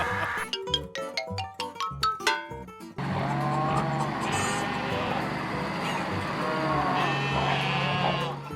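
Sheep bleat on a farm in wavering, drawn-out calls over a continuous background, after a choppy, rhythmic opening.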